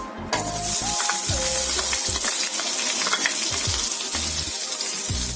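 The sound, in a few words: onions frying in a pan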